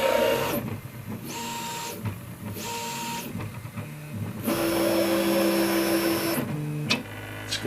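A 3D printer runs its calibration routine. Its stepper motors give off whining tones in several separate bursts, broken by short pauses and steady mechanical hum, close by and with no voices.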